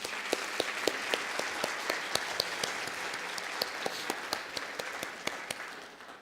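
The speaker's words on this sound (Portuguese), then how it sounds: "Vamos aplaudir a Jesus." Church congregation applauding for Jesus at the end of a Portuguese-language sermon, a steady wash of many hands clapping with sharper individual claps standing out, fading slightly at the end.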